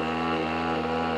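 A two-stroke diesel moped engine drones steadily with a buzzing, harmonic-rich tone, close and loud, running without change for about a second.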